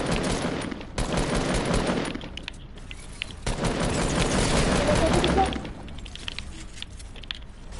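Rifle gunfire from a hunter rifle in the Fortnite video game, a run of loud shots and bursts amid heavy game action and other weapon fire, with voices talking through parts of it.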